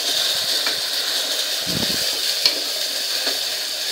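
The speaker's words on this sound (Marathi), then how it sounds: "हे वाटण आपल्याला मिनिटभर तेलात परतून घ्यायचं आहे." Ground masala paste of ginger, garlic, coriander and curry leaves fries in hot oil with a steady, close sizzle, broken by soft stirring scrapes.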